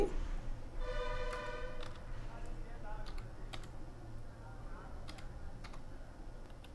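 Someone types an Aadhaar number on a computer keyboard in a series of quick, light clicks. The clicks are faint over a steady background hum, with a cluster of rapid taps near the start.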